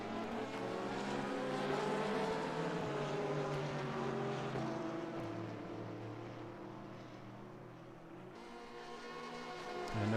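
A Corvette race car in a racing video game at Silverstone, its engine a loud continuous roar that rises and falls with the gears, heard from on board with no talking.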